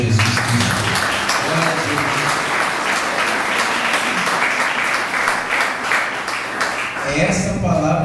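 A church congregation applauds during a Portuguese-language sermon, a dense sustained wash of clapping from many hands filling the room, with a speaking voice and some music underneath and the applause thinning near the end.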